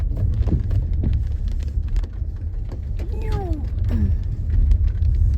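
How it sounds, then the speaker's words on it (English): Inside a Toyota Highlander going through an automatic car wash: heavy rumbling, spraying water drumming on the body and brief mechanical whines, all close and loud. "Car wash."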